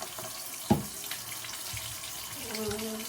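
Water runs steadily from a tap into a sink as a child washes hands, a soft continuous hiss with a brief splash near the start.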